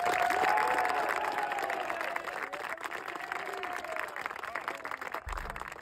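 A crowd applauds loudly with sustained clapping and some cheering, gradually thinning out toward the end.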